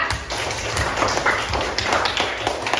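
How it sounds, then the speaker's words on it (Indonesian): A classroom of students applauds together, a steady dense clatter of many hands clapping close by, loud and continuous throughout with little talk. "kasih tepuk tangan untuk semuanya"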